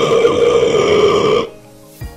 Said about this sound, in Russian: Нет, это я рыгнул!